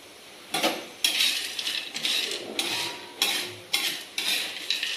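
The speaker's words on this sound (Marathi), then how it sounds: "माती भाजते माती." Soil roasts in a metal pan on a home stove, and the scraping of a spatula or ladle repeats in rhythmic bursts, loud and close, with no talking.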